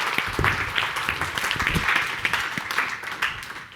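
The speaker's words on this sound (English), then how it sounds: "Let's give them a round of applause" Applause from an audience at a GLC gathering, a dense steady patter of clapping lasting several seconds at moderate loudness with no talk over it.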